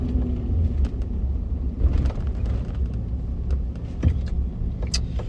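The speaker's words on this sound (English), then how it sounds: "There's a ton of fire trucks out right now" Heavy road vehicles rumble past at a steady, continuous level, with a low engine drone dominating and occasional clicks and rattles on top, as fire trucks drive by outside.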